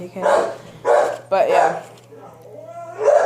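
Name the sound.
dog barking in the background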